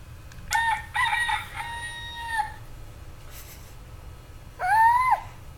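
Electronic rooster crowing from a child's animal-sound toy, two crows in quick succession followed by a pause and a third shorter crow, clear and close with a quiet background.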